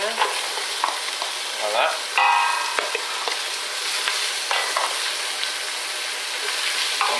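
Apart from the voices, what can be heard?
onion frying in melted butter in a pan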